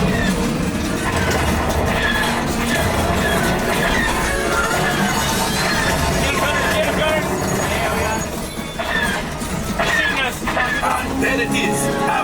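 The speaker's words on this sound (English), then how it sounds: "There's the train." A loud, continuous rumbling train effect fills the Star Wars Smugglers Run ride on the Millennium Falcon at Disneyland, with clattering and crashing layered over a dense roar for the whole stretch.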